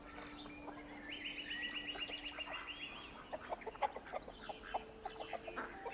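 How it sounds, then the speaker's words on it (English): Chickens clucking in the medieval video game Mount & Blade 2: Bannerlord, a run of fairly faint, quick clucks and calls over low ambient game noise, with a sustained tone early on. "I feel like the chickens are making chicken noises for the loss I just suffered."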